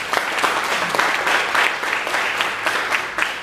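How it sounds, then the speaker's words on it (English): Audience applause at a public speaking event, a dense, continuous clapping from a sizable crowd, moderately loud and even throughout. "Give them a big round of applause."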